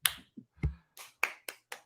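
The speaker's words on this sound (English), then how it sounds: "here's our fake audience clap." Several sharp, isolated claps or snaps in an uneven rhythm, about seven in under two seconds, close and fairly quiet, standing in as a fake audience clap on a podcast.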